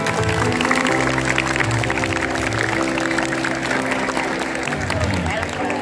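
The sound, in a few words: audience applause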